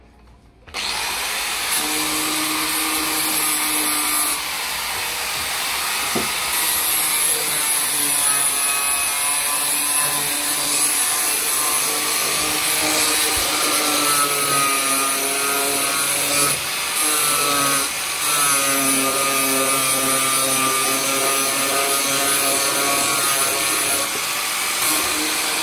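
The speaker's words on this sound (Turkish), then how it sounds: "Şimdi biz zımparasını yapalım." A power sander drones steadily and loudly against a wooden table for a long stretch, a continuous whirring grind with slight shifts in pitch.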